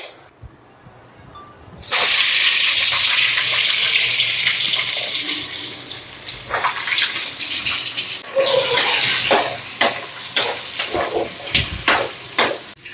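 After a brief quiet start, onion hits hot oil with fried dry red chillies and erupts into a loud, close hiss that settles into sizzling, broken by sharp stirring clacks near the end.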